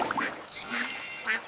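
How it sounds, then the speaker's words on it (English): Cartoon duck quacks in a children's nursery rhyme song, several short quacks in quick succession with a sung voice around them. "Waddle, waddle, quack, quack, happy as can be."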